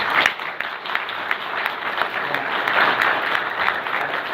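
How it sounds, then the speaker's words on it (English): Applause for the winners fills a council meeting room, a steady round of clapping from a moderate-sized audience with only faint voices underneath. "Please give them a round of applause."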